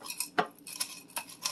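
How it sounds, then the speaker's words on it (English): Cheeseburger macaroni ingredients being stirred together in one pot, a few separate clinks and scrapes of a spoon against the pot spaced across a short moment, fairly quiet with no talk. "You're going to want to mix everything so all the flavors incorporate with one another"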